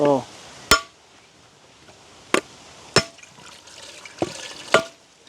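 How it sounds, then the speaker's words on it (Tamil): Dried, sun-dried coconuts struck open in a village yard while making coconut oil, giving about five sharp, loud, separate cracks spaced a second or so apart over a faint wet background, with a brief voice at the start. "இப்படியே நாங்கள் எல்லா தேங்காயும் உடைச்சு எடுப்போமே"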